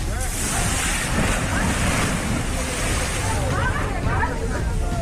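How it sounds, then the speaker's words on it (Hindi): Waves on the Ganga river at Hajipur lap against an eroding, collapsing riverbank, a loud continuous wash of water and wind rumble with faint voices underneath. "गंगा की लहरों ने अपने किनारों को नीचे से जैसे चाल दिया है।"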